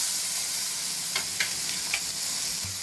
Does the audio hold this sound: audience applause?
no